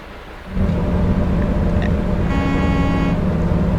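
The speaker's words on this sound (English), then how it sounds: "That's the air horn, by the way." A semi truck with an 18-speed manual transmission sounds its air horn, a loud sustained low blast that starts abruptly and holds steady, with a brighter tonal layer joining partway through.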